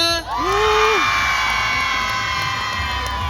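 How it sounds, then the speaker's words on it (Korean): A street crowd at a performance-team busking show in Hongdae, Seoul cheers, with a rising whoop near the start over a sustained tonal backdrop, shouts and cheering carrying through the short burst. "자 인사드릴 때 박수 한호 끊없이 쳐주시면 감사할 것 같아요"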